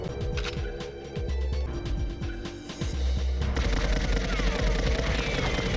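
Gunfire in the N64 game GoldenEye 007, with loud rapid bursts of repeated shots and then a dense, continuous barrage of fire and impacts.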